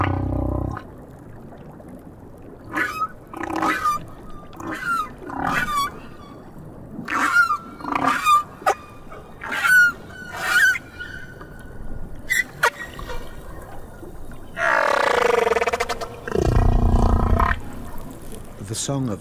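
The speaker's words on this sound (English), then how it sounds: "The whales in different oceans have different songs." Humpback-style whale song recorded in the South Pacific, a series of moaning, rising and falling calls and honking tones repeating over a low rumbling ocean background, with a narrator's voice speaking in between.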